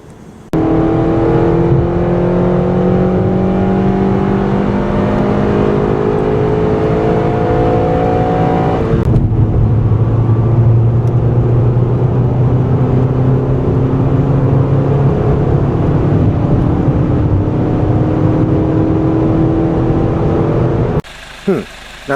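A 2015 Honda Civic Si drives at night, its engine droning steadily and revving up in rising sweeps, close and loud, easing back before climbing again until it cuts off near the end.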